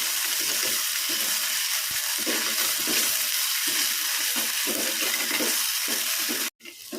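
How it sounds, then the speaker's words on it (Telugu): Fenugreek leaves fry in hot oil with green chillies and curry leaves, giving a loud, steady, close sizzle with occasional stirring scrapes, then a brief cut-out near the end. "మెంతి కూర ఇది. నూనెలో మంచిగా ఫ్రై చేసుకోవాలి."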